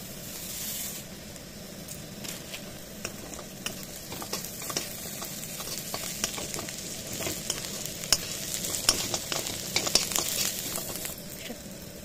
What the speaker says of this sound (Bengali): কাজুগুলো হালকা ভাজা ভাজা হয়ে এলে পোস্তটা আমি দিয়ে দেবো এর সাথে।